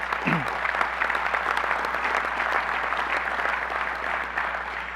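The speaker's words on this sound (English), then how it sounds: "give them a huge round of applause, ladies and gentlemen" Sustained applause from a sizable crowd at an annual business meeting, dense and steady clapping that holds at full strength throughout.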